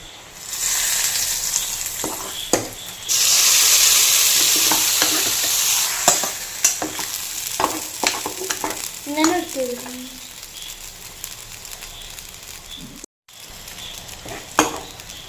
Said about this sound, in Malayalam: അങ്ങനെ ഇവിടെ വറവ് റെഡി ആയിട്ടുണ്ട്. ഇത് നമുക്ക് ഇതിലേക്ക് ഒഴിച്ചു കൊടുക്കാം.